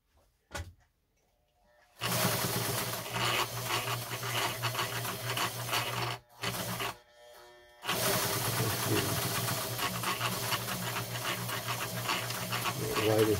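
A Pfaff 130 sewing machine runs a wide zigzag stitch with a steady, close motor whir and needle clatter, starting after a brief quiet spell and pausing once before resuming.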